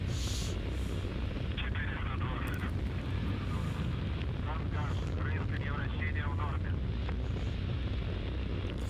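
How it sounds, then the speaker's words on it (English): Rocket engine roar during ascent on a launch carrying two satellites, a steady loud broadband rumble with wind-like noise, while a voice talks over it throughout. "The rocket continues its flight."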